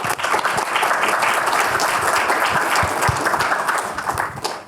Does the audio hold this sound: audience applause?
yes